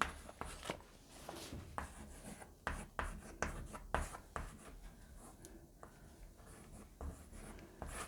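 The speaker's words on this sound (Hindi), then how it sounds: "ठीक है, लिख लेते हैं, टॉपिक डाल लेते हैं यहाँ पे, आप लोग भी लिख लो।" Notes are written by hand with a pen on paper during a general-knowledge coaching class. Quiet, irregular scratchy strokes come in short bursts, with no voices.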